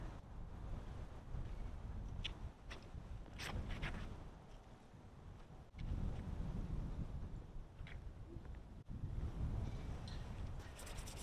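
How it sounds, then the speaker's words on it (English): Gusty wind buffeting the microphone on a disc golf course in Knoxville in a steady, rough rumble that swells and drops a couple of times, with no voices. "It's windy today, folks."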